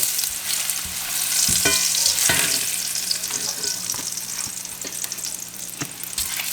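Largemouth bass frying with onions in a cast iron skillet, a steady close sizzle with stirring scrapes and clinks over it, no talk.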